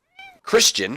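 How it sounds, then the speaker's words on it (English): A house cat gives a short, rising meow in the background, then someone speaks over it right away. "That's my cat in the background you hear"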